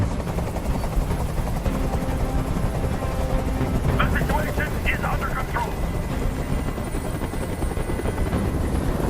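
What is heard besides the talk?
helicopter hovering, from a video game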